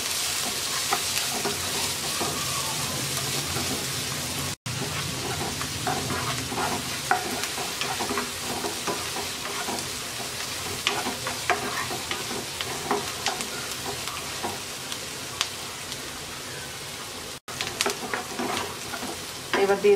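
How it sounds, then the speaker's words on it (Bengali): Chopped onion frying lightly in a pan makes a continuous soft sizzle, with scattered small clicks and scrapes of stirring throughout and no speech. "পেঁয়াজটাকে হালকা ভেজে নেব।"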